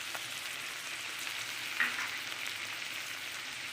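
Ginger-garlic paste, two tablespoons, frying in hot oil while cooking prawns with jackfruit, giving a steady, even sizzle with one brief clink partway through, heard alone without talk.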